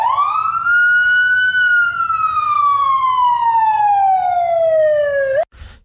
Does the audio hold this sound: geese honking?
no